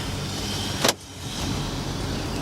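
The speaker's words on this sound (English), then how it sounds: "All right, we are going for a test drive." A 2015 Honda Accord on a test drive on a sunny, breezy day, heard as a steady road and engine hum with one short whooshing burst.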